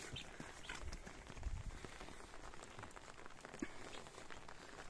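Rain falling outdoors near a chicken coop, a faint, steady hiss of drops with scattered patters and a few soft thuds, no voices.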